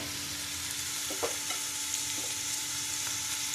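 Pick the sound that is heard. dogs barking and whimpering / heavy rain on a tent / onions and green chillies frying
onions and green chillies frying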